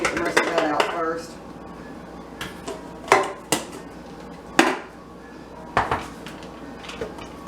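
Scraping leftover cocoa powder out of a measuring cup while baking chocolate sugar cookies: sharp taps and knocks of the cup against a bowl, irregularly spaced, close and clear, with talking in between.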